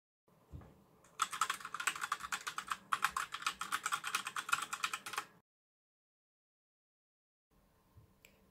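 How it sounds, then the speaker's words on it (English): Fast typing on an ADX FireFight H02 mechanical keyboard, a dense run of crisp clacking keystrokes for about four seconds with a brief pause, then silence and a few faint clicks. "the keyboard is an ADX FireFight H02 mechanical keyboard, as you'll probably hear on streams"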